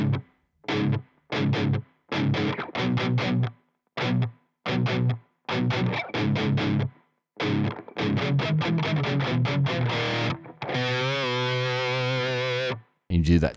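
Distorted electric guitar plays a song's chorus in standard tuning, loud chopped power-chord bursts in a stop-start rhythm, ending on a long sustained chord with bend and vibrato.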